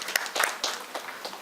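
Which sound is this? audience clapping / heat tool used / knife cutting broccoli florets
audience clapping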